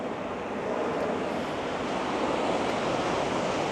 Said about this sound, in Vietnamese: Mọi người nghe thấy tiếng sóng vỗ không?